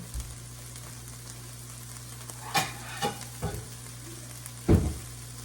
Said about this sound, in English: we're just letting those fry up